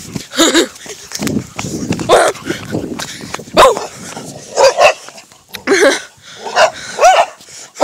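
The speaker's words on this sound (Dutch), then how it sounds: "Die hond daar." A dog barks repeatedly in short, sharp yaps and yips, fairly close, mixed with people chatting and moving around outdoors in summer.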